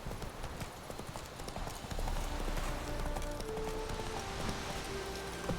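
Roach, a horse in The Witcher 3, gallops in a steady clip-clop of hooves that grows heavier midway, with a faint rainy patter underneath and no talk.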